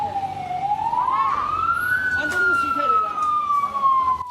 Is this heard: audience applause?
no